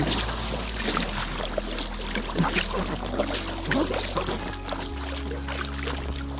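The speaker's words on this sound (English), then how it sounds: "we'll make some ground, paddle a little bit" A boat is paddled across water in the Tasmanian wilderness, with soft repeated splashes and trickling drips over a steady low hum, fairly close and moderately quiet.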